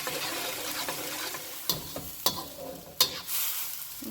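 Lo mein sauce is stirred in an oiled pan, giving a soft sizzle under a few sharp utensil clinks and scrapes against the pan, close by with brief quiet gaps and no talking.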